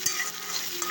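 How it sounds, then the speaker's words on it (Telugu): Chopped onions frying in a pan give a brief, even sizzle close by, with a couple of light stirring taps and no speech. "ఉల్లిపాయలు వేద్దాం."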